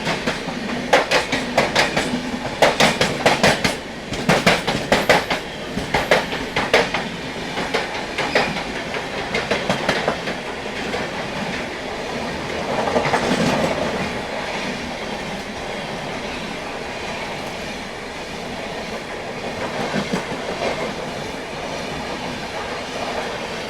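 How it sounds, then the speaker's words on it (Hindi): The Nagpur–Mumbai Duronto Express runs on the rails with loud clickety-clack wheel beats in bursts, steady rolling rumble and some squealing, heard up close and without talk. "जी हाँ, नागपुर मुंबई दुरंतो एक्सप्रेस।"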